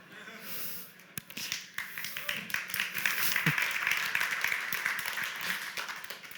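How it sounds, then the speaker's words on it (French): Applause from a small audience after a demo: scattered clapping that quickly builds into steady, dense applause and continues to the end, close and fairly loud. "Si vous applaudissez pour ça..."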